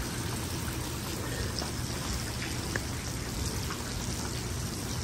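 Heavy rain blown by the wind of Hurricane Milton pours steadily outside a house near a backyard pool, a dense, constant hiss with scattered drop impacts and no speech.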